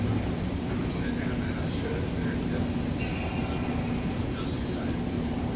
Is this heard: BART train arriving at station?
yes